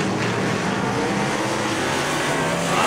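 Race cars at the Tri-State Summit Summer Nationals Summer Showdown roar around the track, making a continuous loud wash of engine noise that swells slightly near the end.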